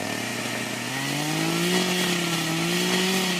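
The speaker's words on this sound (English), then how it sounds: "You get a chainsaw. Oh, the sound of the chainsaw." A chainsaw in the Farming Simulator 2013 game drones loudly and continuously, its engine pitch climbing and wavering as it revs over a few seconds, with no voices.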